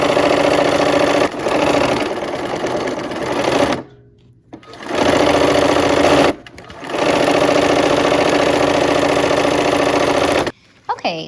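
A sewing machine stitches quilt fabric in loud sustained runs of rapid whirring, broken by short pauses and a longer stop near the end.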